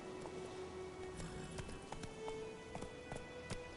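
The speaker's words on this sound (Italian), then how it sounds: "Per sua fortuna durante i suoi viaggi Geralt può sempre contare sul suo cavallo Rutilia" Hooves of a horse galloping in The Witcher video game, a fairly quiet, steady rhythmic clip-clop with scattered sharper taps over a continuous background bed.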